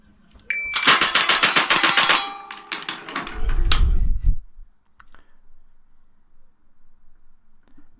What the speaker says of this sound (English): that's how many bullets you can fire that quickly